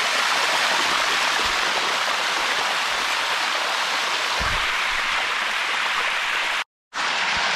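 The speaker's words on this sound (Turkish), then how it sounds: "Çok güzel. Bayağı su geliyor yani." A mountain stream or waterfall rushes steadily and loudly along a hillside trail in Mae Hong Son, Thailand, a dense, unbroken roar of flowing water that cuts out briefly near the end.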